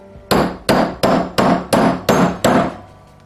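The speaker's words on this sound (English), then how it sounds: "I'm going to hammer it that way. Just take your time, use a big sledgehammer." Seven heavy, evenly spaced sledgehammer blows strike a Piranha 140 bike part, each a loud, close metallic thud with a short ring, with no voices.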